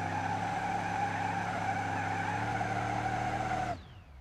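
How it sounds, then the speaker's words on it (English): A turbocharged Roamer with a welded diff holds a burnout in BeamNG.drive, a loud sustained engine drone and tire squeal that cuts off abruptly near the end, leaving a faint fading whine. "it does half decent burnouts"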